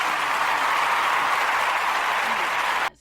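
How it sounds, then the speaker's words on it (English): Steady applause from a crowd of hands clapping at a constant level for about three seconds, then cutting off abruptly. "Giving myself a round of applause right now"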